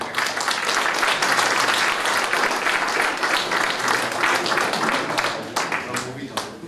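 Audience applause at the closing speech of a pétanque club's 40th anniversary celebration, dense sustained clapping throughout with voices mixed in beneath.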